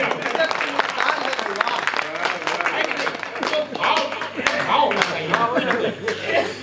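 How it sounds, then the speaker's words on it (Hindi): A Hindi poetry gathering audience claps steadily throughout, dense overlapping hand claps mixed with scattered voices and a bit of laughter. "ताली बजाओ।"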